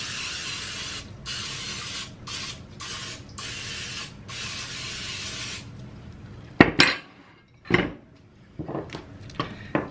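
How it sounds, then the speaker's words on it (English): Olive oil cooking spray hisses onto a baking pan in several short bursts, each spray close and fairly loud, followed by a few clattering knocks of the pan and can. "I'm going to go ahead and spray my pan with some olive oil spray."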